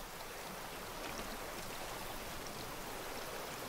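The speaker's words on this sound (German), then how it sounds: "Und jetzt regnet das auch noch." Steady rain hisses in the video game Raft, a soft, even wash of falling drops on water and surfaces with no other sounds on top.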